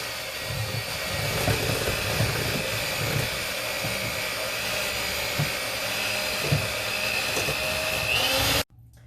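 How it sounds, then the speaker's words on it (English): An electric mixer creams butter and three cups of sugar for a 7 Up pound cake, whirring steadily and close with soft knocks and scrapes in the bowl, then cutting off abruptly near the end. "Now we want to cream this. We want to mix this until it's light and creamy."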